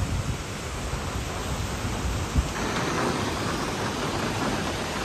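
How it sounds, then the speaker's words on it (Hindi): Heavy rain pours steadily in Gurgaon as a thunderstorm rolls through, a dense, loud, unbroken wash of downpour noise with no voices over it. "भाई साहब जबरदस्त बारिश।"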